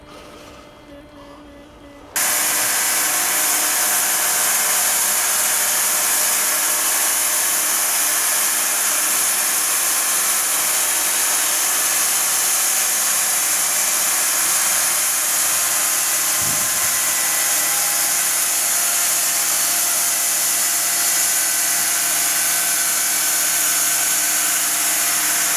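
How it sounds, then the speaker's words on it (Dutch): A powered saw running continuously while cutting a thin urban tree trunk into slats, a loud steady whine with a brief shift in load partway through, starting abruptly after a short quieter lead-in. "Dus daar zaag ik dan latten voor om hekjes van te maken."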